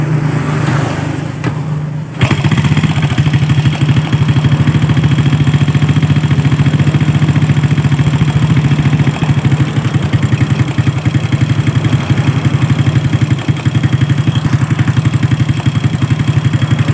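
A Toyota Supra engine with a failed oil supply and a dry cylinder head cranks and fires after about two seconds, then settles into a loud, steady, close idle with a rough throbbing pulse that runs without a break to the end.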